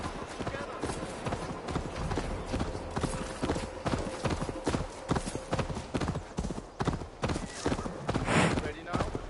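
Galloping horse hooves in Assassin's Creed Valhalla, a steady rapid clip-clop running continuously throughout at close range, with a brief whinny near the end and game voices talking over it.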